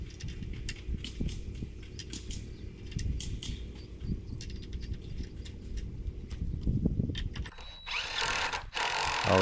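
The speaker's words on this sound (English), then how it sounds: "Always nice to have a drill to get these nuts on fast." A power drill whirs in short bursts, spinning nuts onto 1/2-inch, 7-inch carriage bolts for a pergola, with clicks and rattles between runs and a louder burst near the end.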